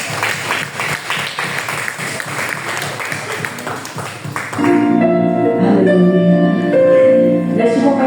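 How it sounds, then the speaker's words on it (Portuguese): Church congregation clapping during a Portuguese-language family service, a dense round of applause for about four and a half seconds, then giving way to sustained music or singing. "Aplauda o nome do Senhor Jesus."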